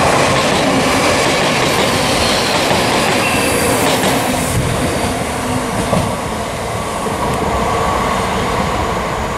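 A Class 334 electric multiple unit on an Edinburgh to Helensburgh service rumbles steadily past close by, a loud continuous roar of wheels on rail with some clatter and a faint high wheel hiss, no talking.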